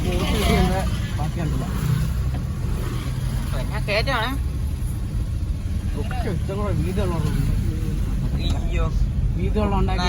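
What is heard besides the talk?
boat engine running on the water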